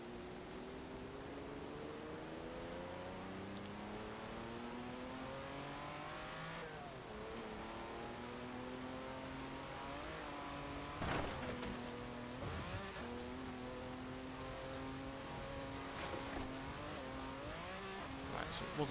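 A Lamborghini engine in the racing game Forza Horizon 4 revs and races, its tone rising and falling through repeated gear changes over a steady roar. A few sharper bursts come near the end, and someone talks over it.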